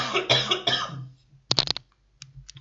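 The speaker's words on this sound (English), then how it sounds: "I'm going to cough now." A man coughs several times, a cluster of harsh close bursts followed by a few quieter coughs and throat sounds, with no talk.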